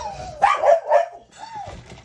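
A dog barks nearby in a few quick, loud yips clustered together, followed by a higher whining tone, in a quiet room where crafting is under way.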